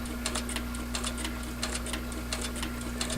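A Slickbald Class 4 sewing machine stitches a leather holster, its needle striking in quick, regular bursts of clatter over a steady motor hum, close and alone.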